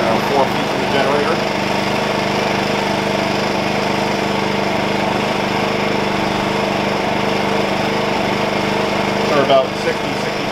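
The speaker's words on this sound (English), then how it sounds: "Maybe, I don't know, 4 feet from the generator." A Wen 56203i inverter generator running about four feet away, a loud, steady engine drone that holds unchanged throughout.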